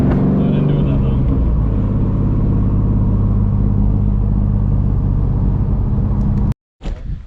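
A manual Chevrolet F-body car with a straight pipe exhaust rumbles loudly and steadily up close, then cuts off briefly near the end before sputtering back, with people talking over it.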